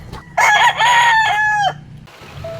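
A rooster crows loudly nearby, one long drawn-out call that rises and falls, followed by a brief softer cluck.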